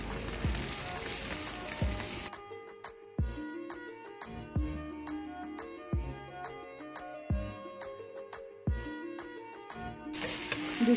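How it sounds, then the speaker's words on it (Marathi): Surmai (king fish) steaks fry on a hot tawa over a high flame, giving a steady close sizzle with bursts of spitting oil and a few clinks of utensils against the pan. "गॅस आता फास्ट ठेवून आपण मच्छी फ्राय करून घेऊया व्यवस्थित"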